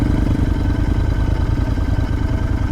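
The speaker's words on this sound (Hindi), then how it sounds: "नॉबी टायर्स के साथ वो बाइक जो है साजी सर का वो बहुत अच्छे से चढ़ जाता है" Royal Enfield Interceptor motorcycles climbing a gravel off-road trail, engines chugging steadily and loudly at low revs, a continuous close drone with clattering mechanical texture throughout.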